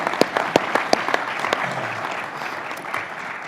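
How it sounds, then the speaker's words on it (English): Applause at a university event attended by a governor, with a few sharp, distinct claps at first, then settling into a softer, thinning patter with a low murmur underneath. "let's give him a round of applause for his great leadership for this great university"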